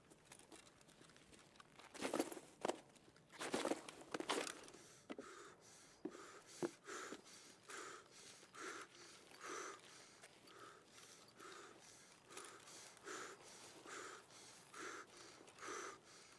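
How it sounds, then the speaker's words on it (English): Faint, rhythmic breathing of a character in the video game Escape from Tarkov, with soft repeated inhales, sniffs and gasps at low level and a few louder bursts early on. "Holding your breath is supposed to cancel out that breathing sound."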